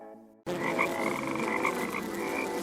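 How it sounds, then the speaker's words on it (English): A dense chorus of frogs croaking continuously, loud and close, beginning abruptly after a brief quiet moment and holding steady throughout. "God sent many frogs, flies, and locusts to Egypt."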